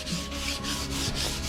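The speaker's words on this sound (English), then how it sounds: "I just lightly went over it with some 220 sandpaper" Varnished wood is lightly sanded by hand with 220-grit sandpaper, giving a soft, steady rubbing hiss in a few back-and-forth strokes, close and quiet with no voices.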